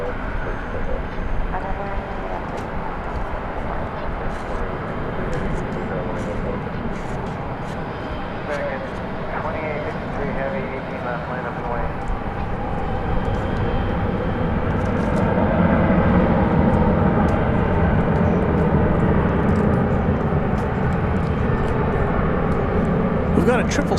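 An American Airlines 737-800 departing DFW Airport at night builds into a rising jet roar, louder in the second half, while someone talks over it throughout.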